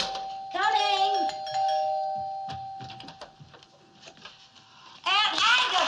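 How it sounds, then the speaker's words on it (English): A house doorbell rings in a 1960s sitcom, with a bright two-tone chime near the start and another ring at the end; people talk in between. "Yeah, the doorbell. Someone at the door."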